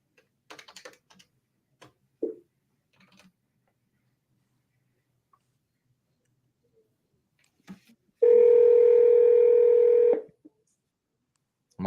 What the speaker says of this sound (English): I'm always worried I'm going to dial the wrong number.